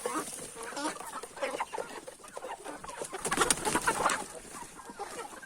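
Chickens cluck and chatter in a busy farmyard flock with many roosters, short overlapping calls close by, with a faint rooster crowing in the mix.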